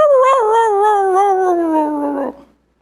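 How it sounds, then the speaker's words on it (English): A recorded dog howl, played as a sound effect: one loud, sustained, mournful wail lasting over two seconds that slowly slides downward in pitch with a whimpering quaver, then cuts off abruptly into silence. "that's just a dog. He's laying on a nail."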